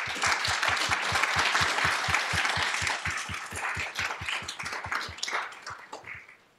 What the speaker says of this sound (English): I would like to begin with an applause for her.